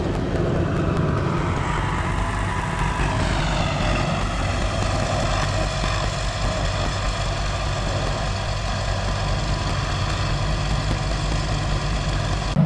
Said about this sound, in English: Now we're gonna hop into this tractor right here, drive it over to that barley bin